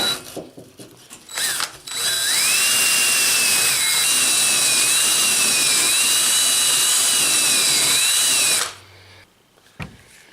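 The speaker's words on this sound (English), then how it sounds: "It's brass as well, fits on a drill, and that's how I'm going to clean these up." A power drill fitted with a brass wire brush whirs loudly for several seconds at a steady, high whine that wavers slightly, then stops, with brief clicks and handling noise around it.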